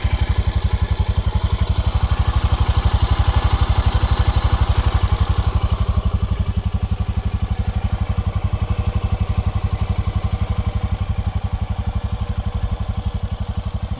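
A Honda Pioneer Deluxe 700 side-by-side engine idles nearby in a yard, a loud, steady low throb with even, rapid pulses and light mechanical clatter running throughout, with no talking.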